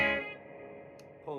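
An M Musi Virgo Fusion electric guitar on its bridge pickup rings out with effects, a sustained chord decaying with reverb before a fresh note is struck near the end.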